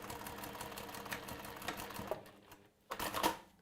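Sewing machine stitching a quarter-inch seam on a hanger project, a steady rapid mechanical whirr running through most of the clip, briefly pausing before a short final burst of stitching.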